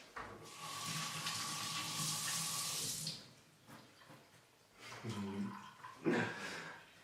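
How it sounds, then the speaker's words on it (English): A kitchen tap runs into a sink as hands are washed, a steady close hiss of flowing water for about three seconds, then stopping and giving way to intermittent splashes and rinsing bursts near the end. "Wash my hands."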